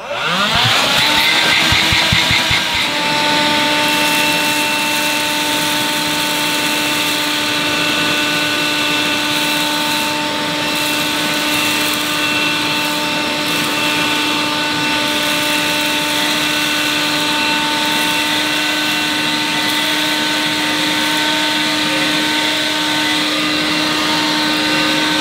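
An AEG CX7 cordless 2-in-1 vacuum cleaner runs in handheld mode at maximum suction, a loud steady motor whine with sharp tonal harmonics after a brief click and spin-up, continuing unbroken and close throughout.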